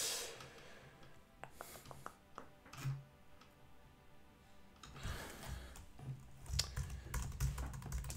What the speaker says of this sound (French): Vous allez voir pourquoi je tape ce égal.